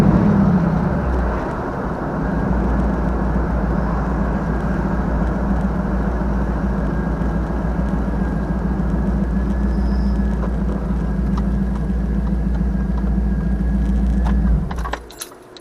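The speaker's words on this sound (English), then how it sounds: "So, took the vehicle for a spin." An LS-swapped GMC Sonoma pickup with an oil pressure issue drives around town, its V8 engine giving a steady, loud low rumble and road noise from inside the cab. The drone runs continuously for about fifteen seconds, then drops away at the end.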